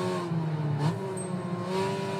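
A Mazda RX-7 race car in Gran Turismo 5, racing at Fuji Speedway, holds a sustained rotary engine note that climbs in pitch as it accelerates, loud and steady with no talk.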